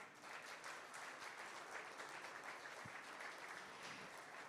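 A crowd applauds for sculptor Muraz Murvanidze at the unveiling of a sculpture dedicated to NASA's Voyager project, with dense, continuous clapping that holds an even level, heard from a distance and fairly quiet.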